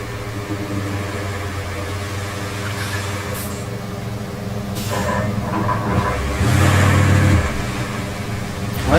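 Heavy truck engine in the Roadcraft video game, droning steadily and growing louder while the truck backs up, with a low rumbling surge near the end.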